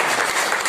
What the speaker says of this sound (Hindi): इनके लिए एक बार जोरदार ताली चाहूंगा।